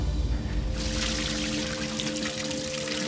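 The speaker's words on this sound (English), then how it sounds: "Dave and Lulu come together for a combined bucket pour on Drew." Water pours from buckets into a tank during a Big Brother Australia breath-holding challenge, a steady close rushing splash that swells after a brief start and keeps going with no voices over it.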